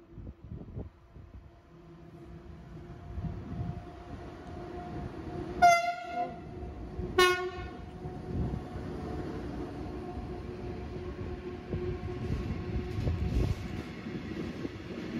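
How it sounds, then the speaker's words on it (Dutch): A freight train hauled by a BLS Vectron electric locomotive arrives near Herzogenrath. Two loud horn blasts sound over a steady low rumble of rolling wagons that continues throughout. "zien de captrein 275-632 uit Aachen-West binnenkomen met de BLS Vectron 475-416 en de LKW Waltertrein"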